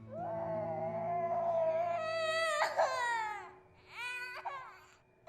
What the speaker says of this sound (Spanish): escuchó el llanto de una niña a lo lejos